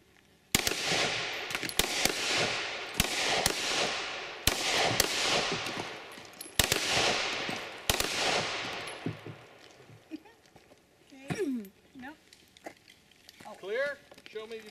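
Gunshots at a shooting match ring out as a rapid string of sharp, loud cracks with short echoing tails, then stop, followed by people talking.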